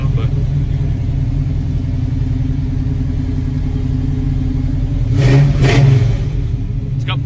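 A 1970 Chevy C10 Stepside short-bed pickup's engine runs with a steady, deep rumbling idle close by, then briefly rises in a short rev near the end before settling back.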